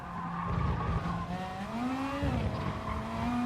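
A racing car engine in a video game revs hard through a corkscrew corner, its steady drone climbing in pitch with tire squeal and skidding layered over it, loud and continuous.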